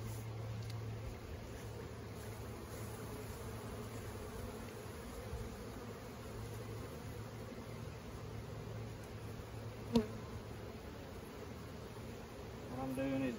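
Honey bees buzz in a continuous, faint hum around a hive frame during honey extraction, with a soft click or knock partway through and a slight swell at the end.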